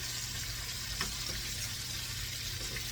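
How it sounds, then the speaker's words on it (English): Steady, low sizzling of chicken nuggets frying in a pan, an even crackling hiss throughout with a faint clink or two. "Now I'm going to continue frying these like this until they're done."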